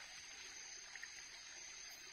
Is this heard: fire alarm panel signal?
no